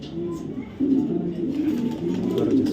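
Racing pigeons coo in a continuous, low, throaty warble nearby, several soft overlapping calls filling the short stretch at moderate volume.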